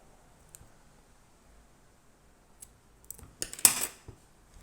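Scissors cut off the yarn tail of a crocheted ribbed hat: a few faint isolated clicks, then a brief cluster of louder close snips near the end, in an otherwise quiet room.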